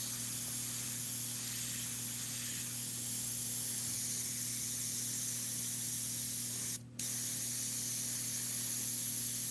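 Steady airbrush spray of Createx Illustration Colors paint onto a red Corvette Stingray, a continuous close hiss over a low electrical hum, with one brief pause near the end before the spray resumes.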